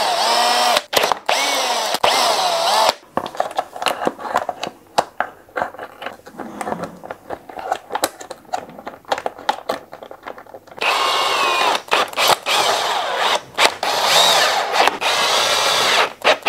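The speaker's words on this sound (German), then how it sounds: "Wir haben jetzt hier vier Schrauben. Die drehen wir einmal raus." A power drill backs out four screws holding the front fender of a Sur-Ron Ultra Bee electric motorbike, with loud bursts of whirring separated by short pauses and one longer, quieter stretch in the middle.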